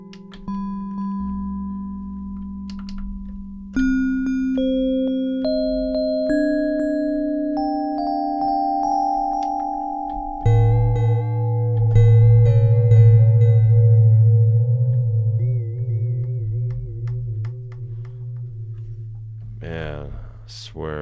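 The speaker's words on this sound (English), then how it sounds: "Sparkle bells, maybe. Ooh, they do sound sparkly." Sparkle bells synth preset played in Logic Pro, a run of bright sustained tonal notes stepping upward and layering into a held chord with shimmering upper harmonics, fairly loud and steady throughout.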